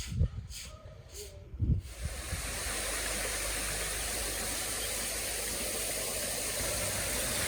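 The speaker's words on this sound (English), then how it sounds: "Another spot that I loved was this amazing waterfall within this lovely place" Waterfall at Lerruat Log Resort in Kajiado County, a steady broadband rush of falling water that fills the scene after a couple of brief knocks at the start, close and constant.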